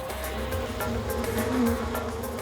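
Bees, each around 1.5 centimeters long, buzz in a continuous low drone with rising and falling pitch, close and steady, with no voices.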